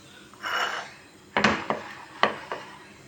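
Pans clatter in a home kitchen while köfte is being prepared: a soft scrape, then several sharp metallic clanks close by, spaced unevenly over a few seconds.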